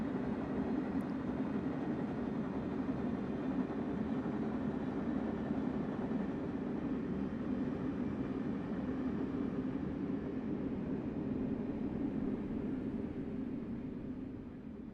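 Simulated New Jersey Transit train in Train Sim World 3 on the New York–Trenton line, braking hard in emergency: a steady, loud broadband roar of rolling and brake noise that holds for the whole stretch and eases slightly at the very end.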